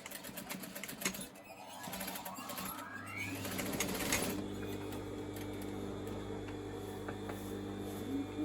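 A sewing machine stitches a trouser seam, running steadily after a few seconds of handling sounds, close and moderately quiet.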